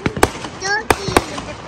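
Several sharp firework bangs and crackles in quick succession, with voices talking excitedly between the pops.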